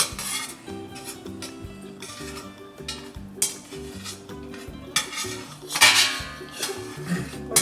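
Garlic and onion being stirred in olive oil in a pan, with a utensil clinking and scraping against the pan in repeated bursts while low sounds rumble in the background.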